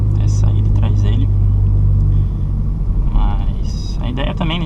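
A 2023 Volkswagen Polo GTS with a sport exhaust rumbles in traffic, its loud, steady low engine drone easing after a couple of seconds while people talk over it.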